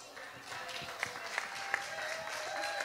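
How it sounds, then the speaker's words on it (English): A crowd at a 30th anniversary celebration applauds for Jill, moderate clapping heard somewhat distant, steady across the moment with a few sharper individual claps standing out. "Let's hear a round of applause for Jill."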